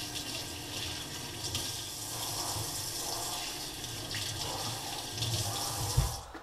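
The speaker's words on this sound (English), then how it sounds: "I'm gonna rinse off all the blood and the scales that might be on there" Tap water runs steadily into a sink while crappie fish fillets are rinsed of blood and scales, a continuous close splashing rush with small shifts as the fillets move under the stream.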